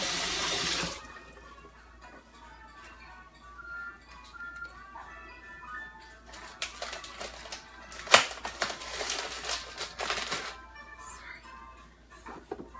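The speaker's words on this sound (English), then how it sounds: "Let me just rinse off my hands." Hands are rinsed under a kitchen tap while making homemade granola bars, with a short gush of running water at the start and later splashing and clatter at a moderate level, faint talk in the background.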